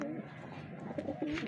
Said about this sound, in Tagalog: Ito yung kalapati natin.